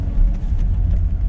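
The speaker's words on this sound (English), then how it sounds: "I'm in my parking garage. I'm driving to a spot." A car drives slowly through a parking garage, its engine a steady low rumble that fills the enclosed concrete space, loud and close with no voices.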